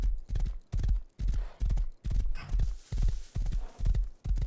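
Horse hooves clip-clop in a video game, a steady, loud walking rhythm of evenly spaced hoof beats close by, with no talking over them.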